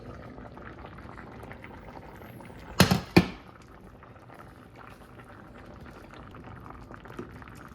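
Chicken noodle soup broth bubbles at a soft, steady boil in a pot, a low continuous burble interrupted by two sharp loud knocks or splashes near the middle.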